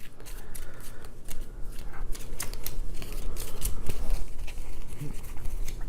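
Playing cards shuffled over and over during a Tanto Cuore: Winter Romance board game, a steady riffling and crackling that runs close and loud throughout.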